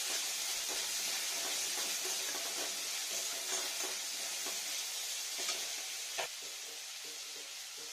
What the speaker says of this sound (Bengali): মূলোটা এর মধ্যে ভাজা ভাজা করে নেবো একটু